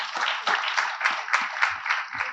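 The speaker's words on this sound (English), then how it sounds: "Can we have an applause for RJ Dilip?" A small audience at an awards event claps in a short, rhythmic burst of distinct hand claps, fairly close and without talk over it.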